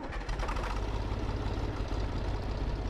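Valmet tractor in Farming Simulator 2017, its engine turning over and settling into a steady, loud low rumble that runs evenly throughout.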